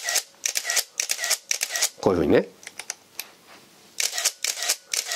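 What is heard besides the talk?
Nikon Zf camera shutter fired via motor drive button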